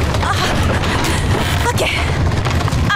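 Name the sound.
fort structure collapsing in a TV show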